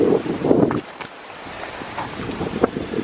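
Strong autumn wind gusts past Altar Rock at St Ives on the Cornish coast, roaring and buffeting the microphone up close, then easing off briefly and rising again.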